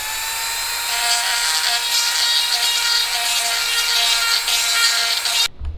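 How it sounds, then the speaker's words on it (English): A Dremel rotary tool grinds at a metal pipe part for a DIY pipe lamp, giving a loud, steady high-pitched whine that runs without a break and cuts off abruptly at the end. "I'm gonna try to Dremel it out real quick and see what happens."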